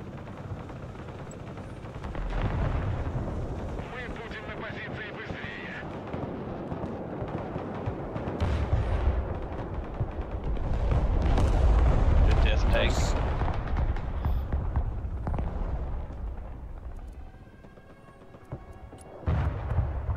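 Bombing in the Broken Arrow war game sets off deep, rumbling explosions that swell and roll across the battlefield, peaking in a long heavy boom midway, while players talk over the din.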